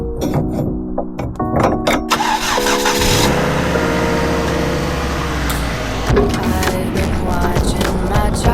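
A Volvo car engine cranks several times, catches and roars to life, then runs and revs as the car pulls away towing a trailer, loud and close.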